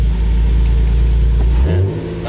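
A Nissan 370Z with an upgraded clutch accelerates hard on a test drive. Its loud engine drones steadily up close and shifts pitch near the end, with no talk over it.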